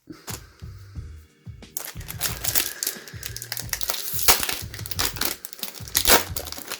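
A Japanese Pokémon card booster pack wrapper being torn open by hand without scissors, with loud crinkling and tearing of foil plastic, repeated rustling bursts and a low rhythmic thump underneath.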